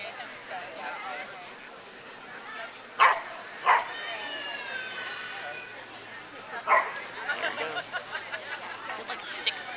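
Several large dogs of around 60 pounds at an outdoor charity run give a few short sharp barks and yips, scattered moments over a busy background of people talking and moving around.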